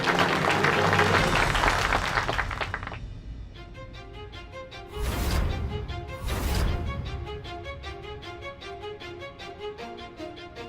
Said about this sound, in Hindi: तो जोरदार तालियों के साथ स्वागत कीजिए अपने प्रतियोगियों का।